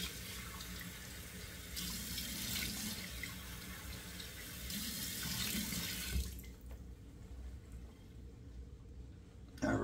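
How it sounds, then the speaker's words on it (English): Water runs steadily from a sink tap, a close hissing stream that shifts in flow, then cuts off and leaves a quiet room with faint drips. "water's running, starting to run cool"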